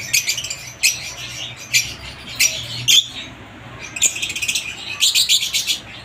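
Parblue and green opaline pale fallow parrots chirp in bright, repeated bursts of tweets with short pauses between, fairly close and loud, with no talking.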